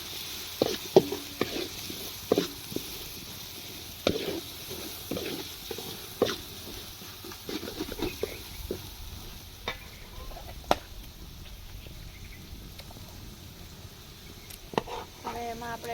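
Onion frying in a pan for a village-style mung bean pulao, with a soft steady sizzle under repeated spoon scrapes and clinks of stirring, fairly quiet and close.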